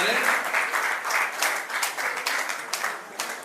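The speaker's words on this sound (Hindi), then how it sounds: "सभी लोग जोरदार तालियां बजाएंगे।" Audience applause at an awareness program in Muradabad welcomes the guests seated on stage, a dense burst of clapping with rhythmic surges, and a voice briefly speaks over it.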